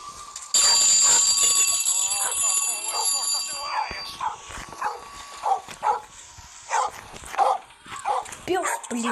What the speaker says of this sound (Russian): Пёс, не лай, блин.